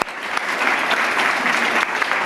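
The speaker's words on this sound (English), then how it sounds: "let's give Jessica a big round of applause." A big round of audience applause for a presenter at a keynote address during an Internet Week festival in New York, dense and fairly loud clapping from a large crowd, sustained evenly with a few sharper peaks.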